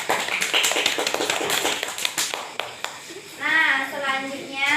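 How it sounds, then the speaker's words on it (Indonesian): Scattered hand claps ring out in a classroom for a student group after their presentation, a brief uneven burst of close applause with children's voices and chatter mixed in, ending as an adult begins speaking. "Tepuk tangan"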